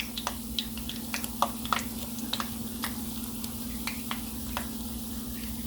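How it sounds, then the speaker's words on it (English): Tortilla pieces frying in hot oil for chilaquiles, a soft continuous sizzle with scattered small pops and crackles, fairly quiet and close, no voices. "we're gonna put this into the hot oil, and then we're gonna go ahead and fry it until it's crispy on both sides"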